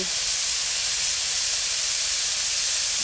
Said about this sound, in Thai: ผัดเต้าเจี้ยวให้หอม